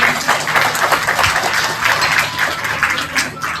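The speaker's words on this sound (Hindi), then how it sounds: "एक बार बेटा के लिए जोरदार ताली बजाएगा।" An audience applauding warmly for a young boy at a devotional gathering, a dense, continuous wash of claps that is close and fairly loud throughout.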